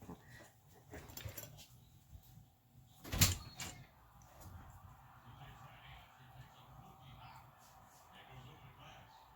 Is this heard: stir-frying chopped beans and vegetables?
no